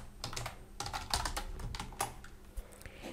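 Close, quick keystrokes on a computer keyboard as an email subject line is entered, in irregular bursts with a few louder key hits and no talking.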